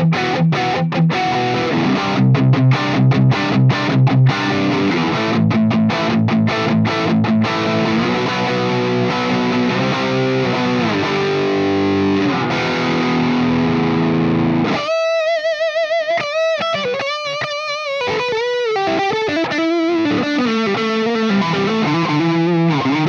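Gibson SG Standard electric guitar on the middle pickup position plays with a heavily distorted, effect-laden tone, fast choppy notes and riffs, then sustained bending lead notes, loud and continuous.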